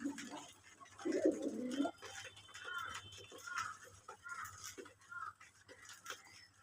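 Local pigeons at a pigeon farm giving soft, throaty cooing, one fuller burst of coos early on and then fainter intermittent calls over a quiet background.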